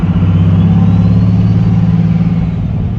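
A 24-valve Cummins diesel engine with a P-pump swap runs loud and close at part throttle, a deep, steady rumbling drone that holds constant throughout without revving up or down.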